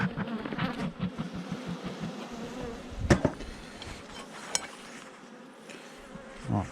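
Honeybees buzzing around a worn wooden beehive in late-winter cold, a close, continuous droning hum with a few sharp knocks and clicks breaking through.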